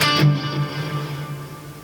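Distorted electric guitar playing a riff with downpicked notes, a sustained low chugging tone under bright ringing harmonics, close and steady for about two seconds.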